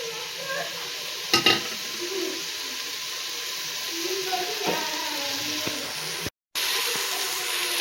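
Frying in a pan for paneer pulao gives a steady, moderate sizzle, broken by a few clinks of stirring and one brief dropout.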